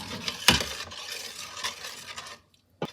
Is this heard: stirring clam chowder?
yes